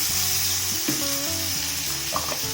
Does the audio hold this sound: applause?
no